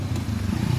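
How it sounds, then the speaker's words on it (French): Motorcycle engine heard while braking and downshifting, a short, close, rough low rumble with uneven crackling pulses. "On a bien entendu le moteur là"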